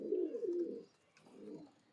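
A pair of Jiriya breeding pigeons giving soft, low cooing calls, two rolling phrases with a short pause between them, close and fairly quiet, with no voices.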